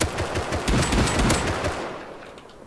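Rapid bursts of suppressed gunfire from a silenced weapon in the survival game Rust, close and steady for about two seconds before tapering off.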